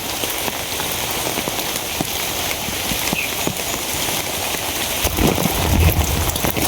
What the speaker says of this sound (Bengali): এখন একটু বেশি পড়তেছে আর কি বৃষ্টি